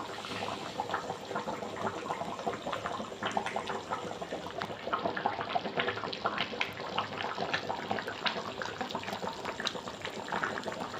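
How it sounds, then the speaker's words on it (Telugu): A drumstick and fish curry boils in a pot, giving off a steady, dense bubbling and popping that stays fairly quiet and close, with no one speaking. "ఈ టైం అప్పుడు ఆ బుడగల సౌండ్"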